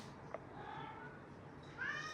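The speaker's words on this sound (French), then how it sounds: "il me regarde en miaulant" A house cat meows a few times nearby, faint mewing sounds that rise to a clearer, louder cry near the end against a quiet room.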